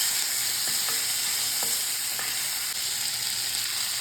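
Tomatoes, curry leaves and coriander fry on a low flame for kadappa chutney, giving a steady close sizzle with a few soft stirring clicks and no voices.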